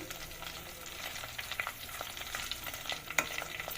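Onions and curry leaves frying in hot oil, a steady soft sizzle with faint stirring scrapes and a couple of brief sharper pops, close and moderately quiet with no talking.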